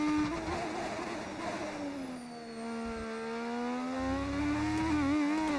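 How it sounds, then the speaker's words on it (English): A retro-style Formula 1 race car in F1 25 drives at the Australian track, its high, buzzing engine tone rising and falling steadily, faint and alone. "Is this an IndyCar engine?"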